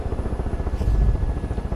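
A helicopter in the video game Far Cry 5 gives off a steady, throbbing rotor beat with a low engine drone, close and continuous throughout.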